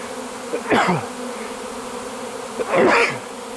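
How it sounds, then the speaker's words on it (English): Steady swarm of honeybees buzzing in a dense, droning hum, with two louder, brief swells as bees pass close by. "half the bees got dislodged and they're airborne"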